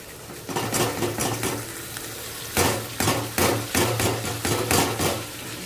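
Chori (beans) stirred in a pan with a little oil: close, repeated scraping clatters of a spoon against the pan in uneven strokes, over a steady low sizzle.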